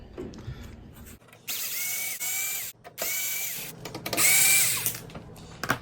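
A power drill whirs in several bursts, revving up and winding down as screws are backed out of a Frigidaire oven door, loud and close with brief pauses between.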